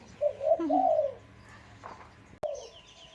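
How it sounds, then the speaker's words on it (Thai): Soft, low dove coos, a few hollow notes in a short phrase, then a brief sharp click and one more coo; no talking. "กินข้าวฟังนกเขาขันไปด้วยครับ"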